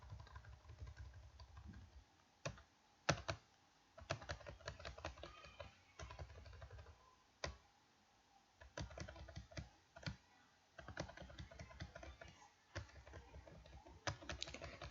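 Keyboard arrow keys are tapped in irregular bursts of quick clicks, some single and some in rapid runs, close by with short pauses between.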